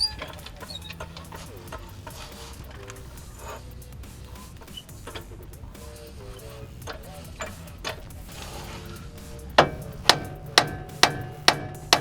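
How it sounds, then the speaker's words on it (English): Hammer striking tabs to free Honda CB7 brake parts during a big brake install, beginning with scattered metallic taps and ending in a run of five loud, evenly spaced blows. "Those are actually to hammer right there to get them free."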